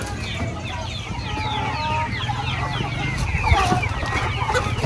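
A large flock of heritage chickens clucks and chatters continuously at a farm at feeding time, many birds overlapping close by and far off, with low voices and farm noise beneath.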